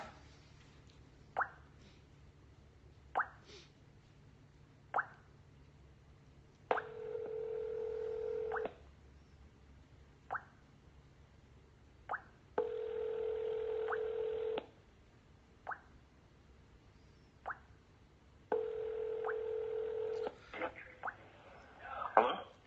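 A phone call is placed: short, separate keypad beeps, then repeated long ringing tones that alternate with quiet gaps, all fairly faint with no talking.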